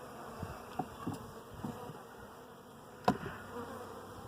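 A soft, steady drone of honey bees swarming over an open hive outdoors in wind, with several faint taps and one louder clack from handling the frames.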